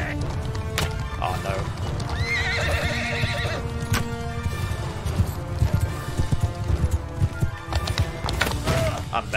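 Horses galloping and neighing in the medieval battle game Mount & Blade II: Bannerlord, with a loud whinny over dense clip-clop hoofbeats, clashing combat noise and voices talking throughout.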